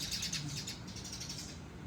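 Birds chirp in a garden resort planted with bougainvillea, a steady wash of overlapping high tweets and calls at moderate distance, fairly quiet and continuous with no voices.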